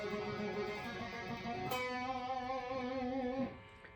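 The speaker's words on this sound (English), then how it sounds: "when you add a bit of overdrive distortion to it, it'll sound like this, sped up" Sped-up guitar lick with overdrive distortion from a heavy rock solo, a sustained, harmonically rich distorted tone that shifts pitch once midway and cuts off near the end, played alone.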